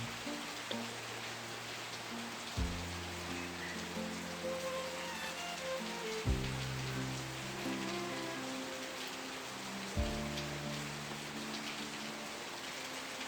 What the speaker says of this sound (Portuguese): Outra vez choveu de repente.